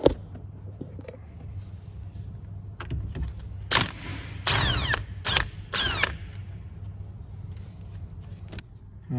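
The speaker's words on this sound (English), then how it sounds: "I've got the buzz gun out just to undo it" Air impact gun with a 19mm socket undoing the steering wheel nut on a Citroen C1, heard as several short loud rattling bursts in the middle of the clip over a quiet garage background.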